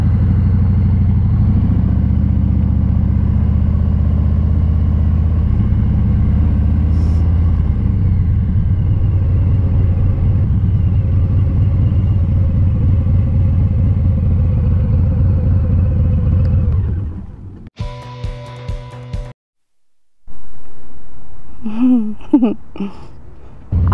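A Softail motorcycle ridden through town traffic, its steady low engine rumble droning close for most of the ride before easing off, cutting out briefly, then returning with softer clatter.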